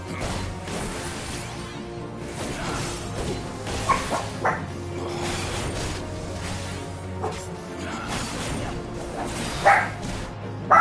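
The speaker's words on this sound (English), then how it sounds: "Calm down, puppies." Dogs bark and yip in short bursts through steady indoor noise, with a few sharper peaks and a loud yelp near the end.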